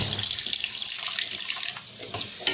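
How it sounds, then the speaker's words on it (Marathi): Water pours steadily into a cooking pot for a fish curry, a continuous splashing gush with a few small bumps and splashes toward the end. "ह्याच्यामध्ये काय करणार आहे आपण आता पाणी टाकू"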